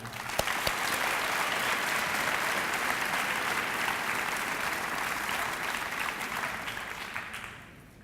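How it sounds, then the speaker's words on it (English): An audience at a high school awards day claps steadily for several seconds, a dense wash of applause that holds even and then tapers off at the end. "Please, a round of applause for our staff."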